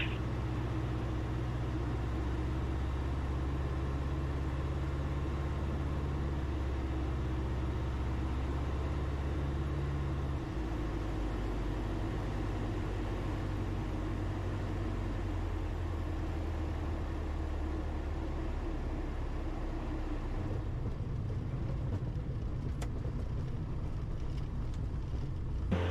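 A light aircraft on final approach to runway 21 and landing, heard from inside the cabin as a loud, steady engine drone with rushing air, the low tone dropping partway through and shifting again near the end, with no talk.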